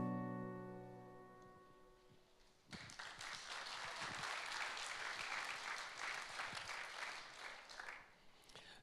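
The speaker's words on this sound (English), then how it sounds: "That clap was for me, wasn't it?" A church congregation breaks into loud, sustained applause after about three seconds of a sustained tone, the clapping staying dense and steady before easing slightly toward the end.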